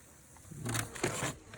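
A soft buzzing of honeybees at a home apiary swells in briefly and wavers for about a second, faint and close, with no voices.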